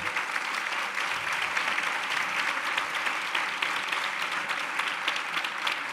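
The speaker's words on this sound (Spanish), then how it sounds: "un fuerte aplauso, que está aquí el hombre" An audience in a theatre gives loud, dense applause without a break, a sustained wash of many hands clapping at once.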